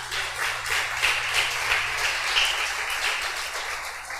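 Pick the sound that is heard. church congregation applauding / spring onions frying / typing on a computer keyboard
church congregation applauding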